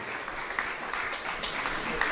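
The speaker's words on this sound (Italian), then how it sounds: "Applaudite, perché qua c'è tanto cuore." Applause at a discotheque event, dense steady clapping from a crowd filling the whole stretch, loud and close.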